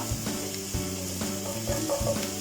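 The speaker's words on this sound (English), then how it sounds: "Oil is hot. Now we are adding chopped chili, garlic and ginger." Chopped chili, garlic and ginger crackle and sizzle in hot oil for egg noodles, a steady close frying hiss with small pops and stirring clatter, no voices.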